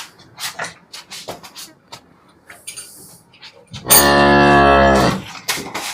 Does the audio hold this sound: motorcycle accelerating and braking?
no